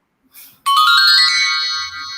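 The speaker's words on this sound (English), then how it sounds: "What is that? Is that your phone? It's my phone." A phone ringtone rings out loud and clear after a brief softer sound, a sustained bright electronic melody that keeps going to the end with no talk over it.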